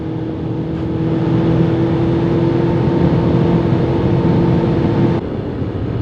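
A Suzuki GSX 600 motorcycle rides at a steady pace, its engine a loud continuous drone with wind noise, holding roughly even before easing off near the end.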